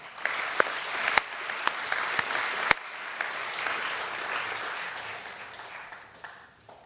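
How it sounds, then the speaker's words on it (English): An audience at a school's annual academic awards evening applauds the nominees with steady clapping and a few sharp individual claps standing out early, then gradually tapers off to quiet. "We just might give the nominees one more round of applause."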